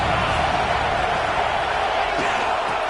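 A roaring football stadium crowd cheers on a third-down play, a dense continuous wall of voices and shouting that stays loud throughout.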